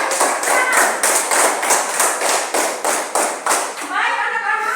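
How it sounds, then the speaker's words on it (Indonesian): A classroom of children applauds a group's presentation, with loud, fast, even clapping that holds steady, then thins out and gives way to voices near the end. "Mari kita beri aplaus untuk tanggapan dari kelompok 1."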